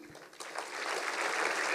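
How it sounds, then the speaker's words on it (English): Applause from a youthful audience at a foundation's annual day celebration, a broad wash of clapping that builds quickly from a softer start and stays steady to the end. "please give us a round of applause again"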